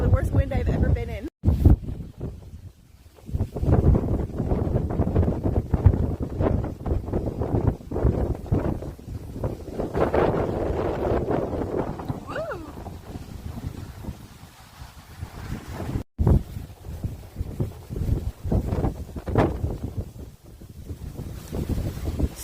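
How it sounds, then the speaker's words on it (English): Strong, relentless wind in Minnesota buffets and roars against a tent, with constant loud flapping and gusting noise and sharp fabric snaps throughout. "Some of the worst wind I've ever been in."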